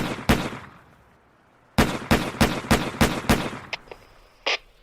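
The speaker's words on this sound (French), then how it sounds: "le patron de la BRB leur tire dessus" Gunshots as a police chief fires on bank robbers: one sharp report, a pause, then a rapid series of six loud shots close together, followed by a few smaller cracks.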